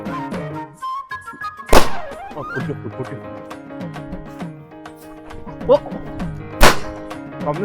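Diwali firecracker bombs going off outdoors, two sharp loud bangs several seconds apart over a bed of festive music and voices.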